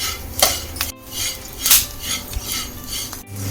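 A spoon scraping and knocking against a pan while barley, peanuts and almonds roast dry, several sharp metallic clinks and rattling stirs in an uneven rhythm, close up and without speech.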